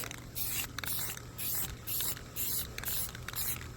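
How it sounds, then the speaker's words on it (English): Short bursts of spray paint from an aerosol can, aimed at a cemetery fence, hissing in about seven quick, evenly spaced pulses, close and fairly quiet. "if you're new to spray painting, you want to keep about a foot away"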